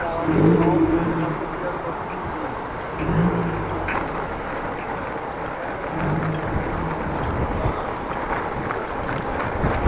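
A car engine revs a little at a stoplight in Groningen, with a few distant swelling bursts over steady traffic noise and wind buffeting.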